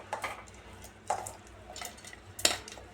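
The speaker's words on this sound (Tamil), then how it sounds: "இதை வந்து மிக்ஸி ஜாரில் சேர்த்திக்கலாம்." Sautéed carrots are scooped into a mixer jar for chutney, with a spoon scraping and clinking against a pan and the jar in a few sharp taps over faint background.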